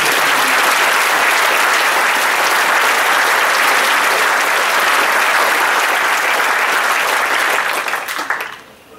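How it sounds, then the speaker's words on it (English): Loud, sustained applause from a meeting audience honouring a departing honorary president at a BirdLife South Africa gathering, steady dense clapping that fades out near the end with no voices. "if we could give him a round of applause for his considerable"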